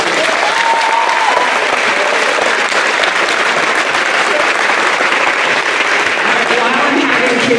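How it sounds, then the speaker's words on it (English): An audience at a middle school awards ceremony gives a loud, sustained round of applause, dense clapping filling the room steadily from start to finish. "Go ahead and give them a round of applause"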